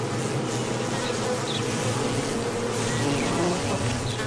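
Dense, steady drone of honeybees buzzing at the hive entrance, where guard bees attack a drunken worker; continuous, close and loud throughout, with no talking.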